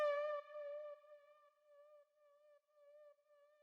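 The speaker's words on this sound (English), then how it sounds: "Next, I just have a little lead stab" A synth lead stab accent from an electronic track carried from the build-up into the drop rings out as a single clean, sustained tone with a sharp attack, holding steady and fading quietly over several seconds with nothing else heard.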